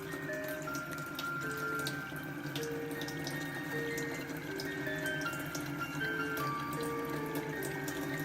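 A water ionizer dispenses alkaline water into a cup, a steady running trickle and splash as it fills and overflows, with tonal music playing in the background and no speech.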